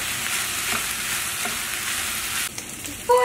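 Kimchi fried rice sizzles in a pan with a loud, steady hiss and a few faint stirring clicks. The frying drops off sharply near the end, and no one speaks.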